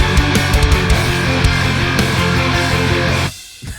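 Cinematic sample layers and bass are joined by heavy metal guitars in a dense, loud wall of sound with steady rhythmic chugging, which cuts off abruptly near the end into a brief quieter tail.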